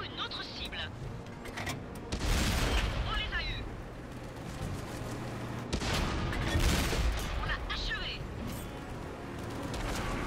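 Tank cannon fire and impacts in World of Tanks on console, with heavy booms and rumbling blasts arriving in two waves, plus a voice speaking over the battle.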